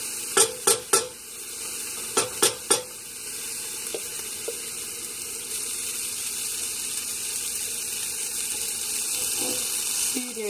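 Onions caramelizing in grapeseed oil, a soft steady sizzle in the pan, opened by a few sharp stirring scrapes or taps, then continuing quietly with occasional faint clinks.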